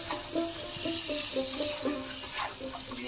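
Marinated chicken and potatoes are stirred and fried in spices, giving a soft, even sizzle with occasional stirring scrapes while a repeating tonal pattern sounds faintly behind.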